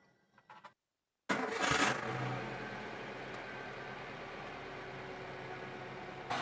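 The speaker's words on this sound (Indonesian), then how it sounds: "kita coba nyalakan mesinnya" A used car's engine cranks and catches after a brief quiet moment, then settles into a steady idle close to the microphone.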